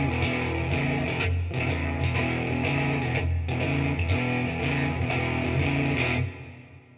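Electric guitar playing steady chords with a thick, processed tone, sustained and fairly loud, ending with the notes ringing out and fading.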